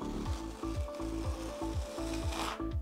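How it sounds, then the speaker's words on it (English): A gritty, rhythmic scraping of a spatula dragging a thin first coat of grainy microcement across a board, repeated strokes at a steady pace, close and continuous with no talking. "you can hear the grains scratching against the board underneath"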